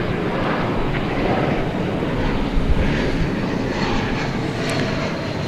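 A jet airliner departs at night from Dallas Fort Worth airport, bound for Melbourne, its engines a steady broadband roar that holds loud and even throughout with a slight swell midway.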